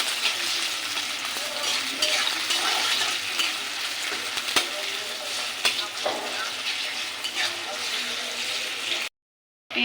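Green chillies, onion and a little garlic fry in a hot pan with a steady, bright sizzle, broken by occasional scrapes and clacks of stirring. It cuts to a brief silence just before the end.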